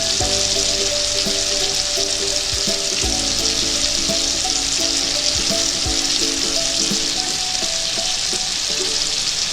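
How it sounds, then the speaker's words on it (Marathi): Chopped tomato, ground masala paste and red chilli powder frying in oil in a kadhai for Kolhapuri misal, a loud, close, continuous sizzle with occasional stirring scrapes and knocks. "तेलात लाल तिखट किंवा कोल्हापुरी कांदा मसाला घालायचा, मग त्यात आपण तयार केलेलं वाटण घालायचं।"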